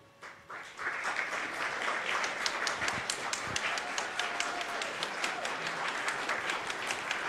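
Applause at a game jam presentation event, a dense continuous roar of many hands clapping that swells in after a quiet opening and holds steady, fairly distant.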